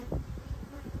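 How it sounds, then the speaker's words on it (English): Honey bees drone steadily inside a crowded hive box, a dense low buzzing hum with slight pulsing swells throughout. "there are a lot of bees in this box"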